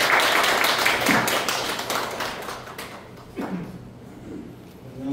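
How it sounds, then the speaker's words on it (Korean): An audience at an ink-painting award ceremony applauds, the clapping loud at first and then thinning out and fading, with a faint voice near the end. "박수로 맞아주시면 감사합니다."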